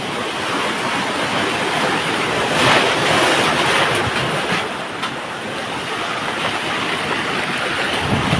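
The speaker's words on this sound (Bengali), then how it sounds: "দেখেন আজকে ঢেউ দেখেন, আর আজকে বাতাসের তীব্রতা দেখেন।" Strong wind roars and river waves crash during Cyclone Remal at a riverside village in Dhalchar, Bhola, a loud continuous rushing with wind buffeting the microphone and surging swells, no voices.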